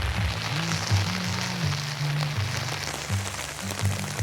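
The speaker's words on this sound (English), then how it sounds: "It's starting to rain pretty good here." Steady patter of rain falling on surfaces at a summer campsite by the Cascade River, Superior National Forest, continuous and fairly close, with a low droning hum running underneath.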